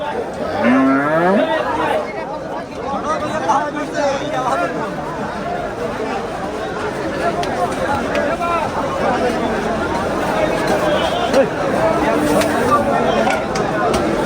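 Cattle at a crowded Qurbani sacrificial-animal market low out once near the start, close and loud, over dense crowd chatter and babble that runs throughout.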